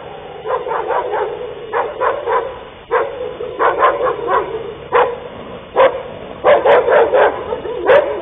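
Dogs barking on a street, repeated sharp barks and yips in irregular bursts, fairly close and loud, with no talk.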